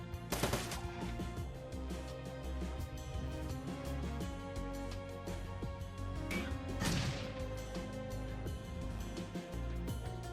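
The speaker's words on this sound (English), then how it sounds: "Oh, now it's shooting." Gunfire in the video game Shadowrun: Dragonfall: a couple of sharp shot bursts, one near the start and another around the middle, ring out over steady game music and effects.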